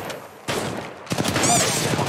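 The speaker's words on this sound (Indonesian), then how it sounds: "Ada yang nembak gua." Gunfire erupts in the video game PUBG, with a short flurry of rapid shots and bursts crackling together over a couple of seconds.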